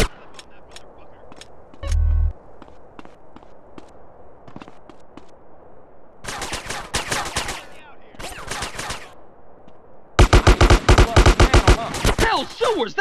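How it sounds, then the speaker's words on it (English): Sniper shots and bursts of gunfire in the video game GTA San Andreas, with scattered sharp cracks at first and then dense, loud rapid-fire volleys. "That was a sniper bullet!"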